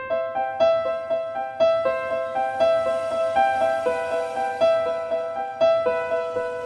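An Arturia Augmented Grand Piano arpeggiates the same triad over and over, each broken chord ringing out with a crisp attack in a steady, repeating pattern, close and alone.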